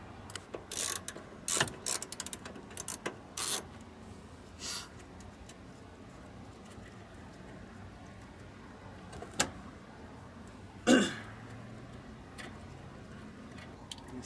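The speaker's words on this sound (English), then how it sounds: "I'm gonna put my new Husky set to the test" A ratchet from a new Husky socket set worked on a Ford truck clutch pedal: quick bursts of clicking early on, then quiet stretches with a few isolated mechanical knocks.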